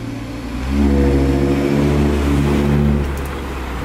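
A tuned pre-OPF Audi RS3 saloon cruises with a deep, steady exhaust drone. The drone swells slightly after the first second, then holds a constant rumbling tone, close and loud, with no talking.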